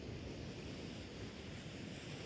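Sea waves wash against the stony shore at Soli in Mersin, heard as a steady, soft, continuous rush with no distinct breaks. Light wind blows over it and no voices are heard.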